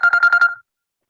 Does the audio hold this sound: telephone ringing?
yes